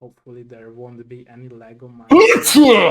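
A person speaks briefly, then one sudden, loud sneeze bursts out close to the microphone at the very end.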